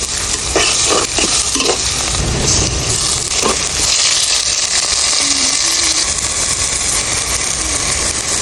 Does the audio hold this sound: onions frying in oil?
yes